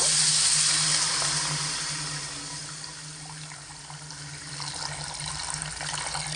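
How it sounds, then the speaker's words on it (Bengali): Water is poured into a pan of fried potatoes for a thin potato, eggplant and bori curry, making a steady close hiss and splash that eases slightly midway, with no talk. "এবার আমি এর মধ্যে পরিমাণ মতো জল দিয়ে দেব"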